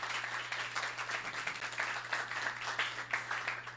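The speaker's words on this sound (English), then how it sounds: "Let's give them a big round of applause as well." A room audience at a social media week session claps steadily, many hands blending into a moderate, even wash of applause over a faint constant hum, without voices.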